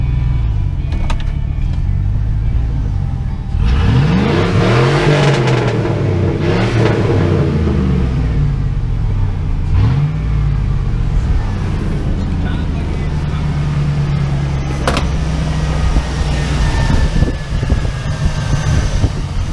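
A GMC or Chevy truck engine idles steadily in drive with no misfire, a continuous low rumble with a slight rise and fall, overlaid by wind buffeting and a speaking voice.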